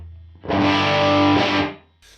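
Electric guitar played through a UAFX Lion amp pedal with its room effect turned fully up, a loud distorted chord ringing for about a second and a half before fading, then a faint trailing strum.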